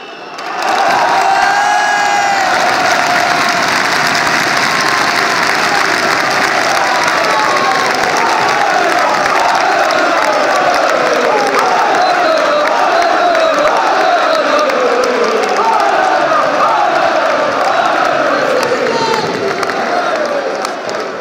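Football supporters in a stadium crowd at a Lens versus Istres match applaud and cheer the players, with steady loud clapping and rising chants and shouts that carry on throughout.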